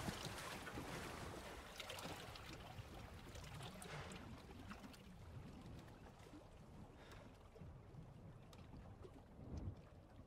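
Boat engine in Resident Evil 4 Remake drones and surges with splashing water and wind-like rush, a loud churning roar that swells and eases across the clip, with no voices.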